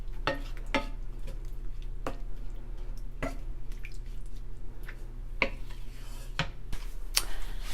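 Creamy jalapeno chicken sauce stirred in a pan as it begins to simmer, with scattered wet clicks and squishy spoon strokes against the pan over a low bubbling background, close and fairly quiet.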